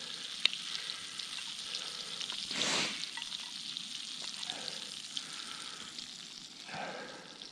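Rabbit heart fries slowly in a pan outdoors in midwinter Ontario, a quiet, steady sizzle with a brief louder hiss and faint ticks.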